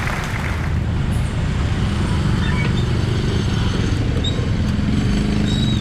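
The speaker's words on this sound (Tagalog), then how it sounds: "Sobrang traffic" Heavy road traffic with motorcycles, a loud continuous roar of engines and passing vehicles heard close by, no talking.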